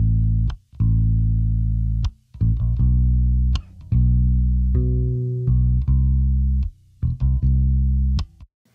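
Electric bass line run through a digital FabFilter Pro-Q3 EQ and Pro-C2 compressor chain, playing loud sustained notes with short gaps and bright plucked attacks, heard alone without talk.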